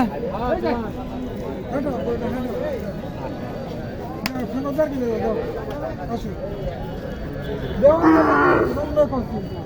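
Cattle moo loudly among a busy crowd at a cattle market in Mahadevpur, Naogaon, with people chattering throughout and a louder bellow near the end.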